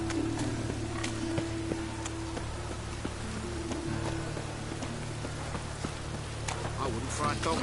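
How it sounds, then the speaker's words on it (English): Steady rain falling in The Witcher 3, a continuous broadband patter with a low hum beneath, heard alongside voices talking. "It's raining again."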